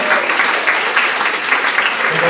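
A room audience applauds newly joined Arbonne consultants at an evening business meeting, dense continuous clapping from many hands, loud and close, filling the whole stretch.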